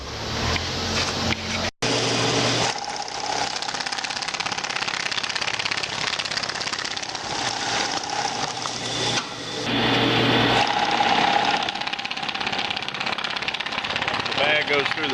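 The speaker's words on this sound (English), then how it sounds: "The bag goes through the sewing head." An industrial bag-sewing head on a rebuilt sewing line stitches through a bag with a loud, steady mechanical clatter, briefly cut near the start, then continuing as a dense rapid chatter with slight changes in tone throughout.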